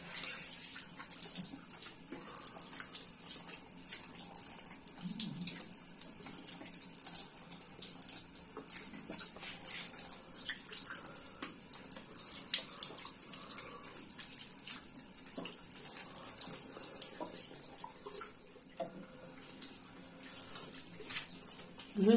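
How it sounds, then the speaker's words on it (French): Tap water runs steadily for a long stretch at a bathroom sink as a face is washed under the stream, a constant close splashing wash with small shifts where the face moves through the flow. "Et souvent, je passe la tête sous l'eau"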